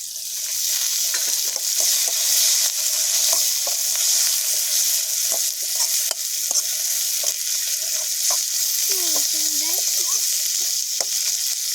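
Chopped tomatoes sizzle in hot oil with softened onions for a spicy buttermilk curry, a steady bright hiss punctuated by close, irregular clicks and scrapes of a spoon stirring the pan.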